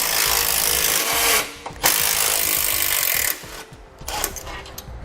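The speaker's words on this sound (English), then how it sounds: "We're going to remove that with a 13mm socket." Power tool driving a 13mm socket to remove a bumper bracket bolt while fitting a base plate kit to a 2018 vehicle: loud, close, continuous whirring and rattling in bursts, with brief pauses between runs.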